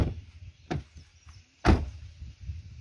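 An 11-year-old Mahindra Scorpio's door swings shut with two solid, close thuds about a second apart, the second one louder, over a low background hum.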